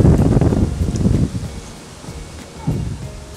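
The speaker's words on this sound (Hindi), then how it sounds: "बढ़िया वाली तेज़ हवा चल रही है" Strong gusty wind blows outdoors, roaring into the microphone in a loud first burst that eases, then gusts again briefly near the end.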